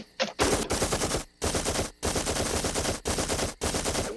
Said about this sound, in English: one of his dad's friends would wake up to go to the bathroom and fire off a few rounds just for kicks